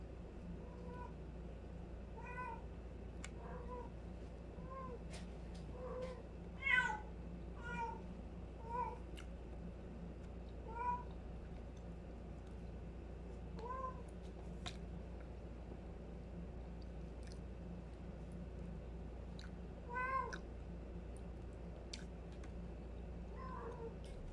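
A pet cat meows noisily indoors, giving a scattered series of faint, drawn-out calls spaced several seconds apart against a quiet background hum.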